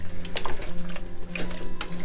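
Water poured into a pot of potatoes for a cheap vegan soup on a narrowboat, a close splashing and trickling with brief clinks of pot and utensil, steady throughout with no talk.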